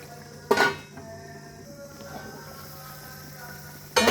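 A metal lid clanks down onto a pan of cooking moong dal badi sabzi, one sharp clatter followed by a faint rattle, then a quiet kitchen hum and a second clink at the end.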